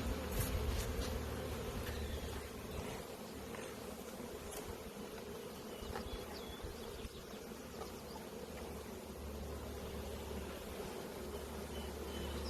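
Honey bees swarm around a new hive in a Michigan spring apiary, a dense, steady buzzing drone that holds close and constant throughout with no voices.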